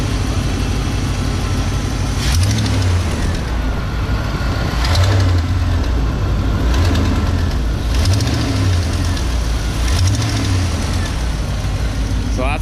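Dodge Dakota R/T V8 idles close up with an exhaust tick, a steady rumbling engine with faint rapid ticking and a few periodic low surges, no clear talk over it.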